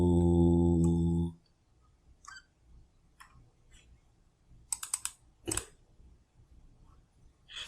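Typing on a computer keyboard while entering text into a graphic design editor, heard as a few scattered, light clicks and a brief burst of quick keystrokes, close and fairly quiet, with no talking.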